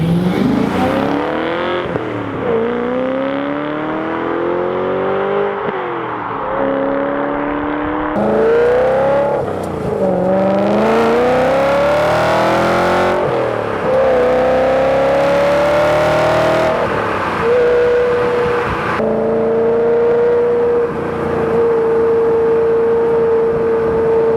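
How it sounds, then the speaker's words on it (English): A car fitted with a newly installed exhaust back box pulls away and accelerates through several gears, the engine note climbing and dropping with each shift and then settling into a steady cruising drone, close and fairly loud. "First drive then with the new back box installed"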